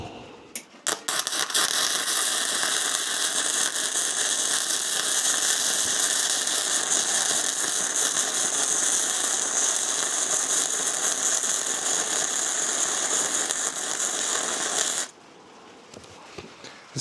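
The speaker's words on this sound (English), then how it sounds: "It's still getting plenty hot for this 1/4 inch angle iron, no issue, and still welds really well." A multiprocess welder runs on a 110 V household outlet, welding 1/4 inch angle iron. It gives a loud, continuous crackling sizzle that holds steady for about fourteen seconds, then cuts off into quiet.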